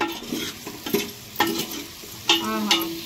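A spoon scrapes and stirs through thick, oily food in a metal pressure cooker, with several distinct strokes over a soft background sizzle.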